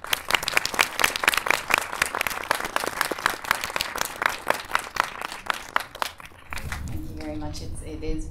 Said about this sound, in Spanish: les voy a pedir un pequeño aplauso para Nora Tone